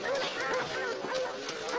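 A dog barks and yips in a TV police drama scene, the sounds mixed with voices and room noise at moderate loudness.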